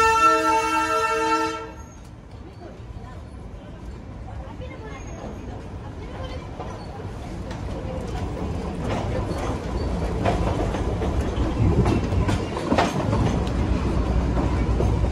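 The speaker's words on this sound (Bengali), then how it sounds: "আমাদের ট্রেন ঘুম স্টেশন ছেড়ে এগিয়ে চললো" A Darjeeling train pulling out of Ghum station gives a horn blast at the start, then a steady rolling rumble and wheel clatter that grows louder as it moves off, with voices in the background.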